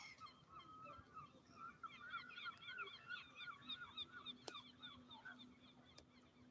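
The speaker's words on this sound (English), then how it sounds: "The birds are meeping." Birds call in a steady run of chirping, squeaky notes at the Thames Barrier as the tide rises, continuous over a low background hum, with no talking.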